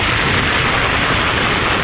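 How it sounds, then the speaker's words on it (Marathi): Heavy monsoon rain pours down steadily as a family walks through it, a dense, loud broadband hiss of rain filling the whole moment without letup. "पाऊस पडतोय जोरदार आणि आम्ही चाललोय पावसात."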